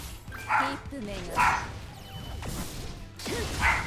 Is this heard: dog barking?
yes